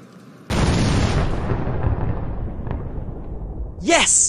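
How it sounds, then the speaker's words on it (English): Sticky bombs detonate in a video game, blowing up a Ross Dress for Less store with a sudden loud blast that rolls into a long, decaying rumble, followed by a sharp whooshing sound near the end. "now to detonate the sticky bombs and blow up the entire Ross Dress for Less store"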